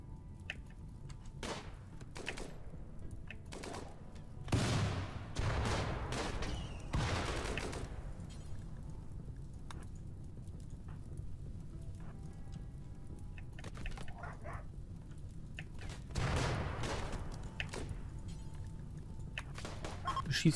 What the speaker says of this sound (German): Der Granatenwerfer.